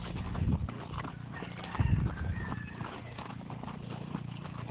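A Peruvian Paso gelding's hooves clop in a few close, uneven steps, mixed with snorting and a brief whinny-like call, recorded outdoors with faint background noise.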